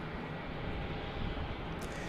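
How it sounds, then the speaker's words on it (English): An Airbus A330neo heavy jet taking off from runway 34 right at Salt Lake City airport, a steady, broad engine roar heard at a distance with no voices. "An A330neo departing to Amsterdam here on runway 34 right"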